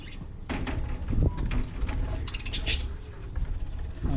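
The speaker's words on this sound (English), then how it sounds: "Just recording the sound for bird sound." Lovebirds chattering and chirping in a busy, continuous flock, close and moderately loud, with scuffling and rustling noise mixed in.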